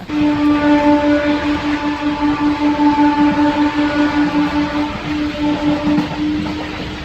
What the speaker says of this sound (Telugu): ఇది ఒక ప్యాసింజర్ స్పెషల్ ట్రైన్ అండి ప్రతి స్టేషన్లో కూడా ఆగితే వెళ్తుంది